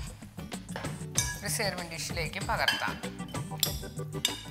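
Green salad dressed with lemon juice being tossed in a bowl: a spoon clinks and scrapes against the bowl in irregular knocks, while a voice can be heard underneath.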